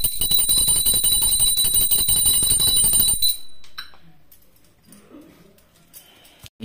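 A loud, sustained ringing bell that clangs continuously for about three seconds, then stops abruptly, leaving faint room noise and soft movement.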